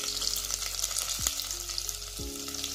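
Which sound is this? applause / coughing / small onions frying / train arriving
small onions frying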